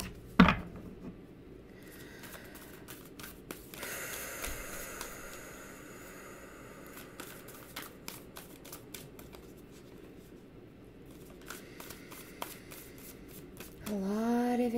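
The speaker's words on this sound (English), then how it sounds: "let's cut the deck since we have our intention" A tarot deck being cut and shuffled by hand, with a steady riffling, papery shuffle running for many seconds, broken by soft card slaps and a brief voice at the start and end.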